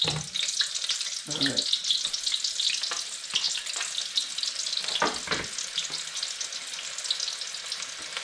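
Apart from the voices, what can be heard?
red onion frying in pan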